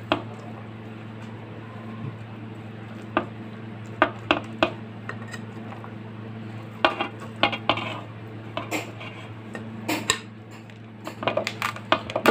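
Meat is added to a pan while dishes and utensils clatter in a home kitchen, sharp scattered clinks and knocks over a steady low hum, getting busier toward the end, with no talk.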